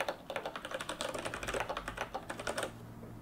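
Steady clatter of typing on a computer keyboard in a clean text editor, rapid uneven keystrokes close and clear, stopping near the end and leaving only faint room tone.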